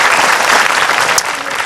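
Audience applause fills a talk at an Islamic congregation gathering, honouring a doctor speaker: a dense, steady wash of clapping hands that holds loud throughout the short moment.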